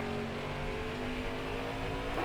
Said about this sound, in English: Got a car coming inside now.